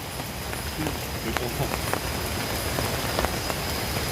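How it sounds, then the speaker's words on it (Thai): Heavy rain pours steadily onto a surface in a southern Thai forest, a dense continuous hiss with scattered louder drops, close and loud throughout. "ฝนลงอย่างแรงนะครับตอนนี้"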